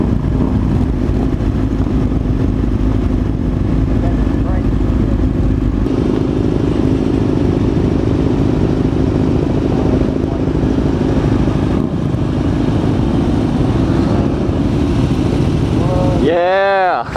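A motorcycle engine drones and revs steadily during wheelie stunts in street traffic, close and loud the whole way, with a sharp rising rev near the end and voices talking over it.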